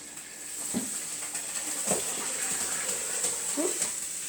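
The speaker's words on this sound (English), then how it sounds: "So I'm going to pour in my broth." Broth poured into a hot dish on the stove gives a steady watery pour with a soft hiss and sizzle, with a few brief voice sounds over it.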